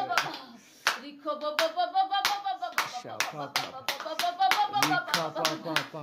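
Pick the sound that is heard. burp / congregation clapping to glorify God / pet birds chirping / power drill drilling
congregation clapping to glorify God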